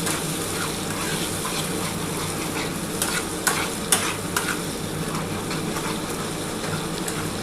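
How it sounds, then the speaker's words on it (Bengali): Spice paste with whole garlic cloves sizzles in a pan for a katla fish curry while being stirred. A steady frying hiss continues throughout, broken by a few sharp spatula clinks and scrapes. "ভালো করে মশলাটা কষাতে হবে।"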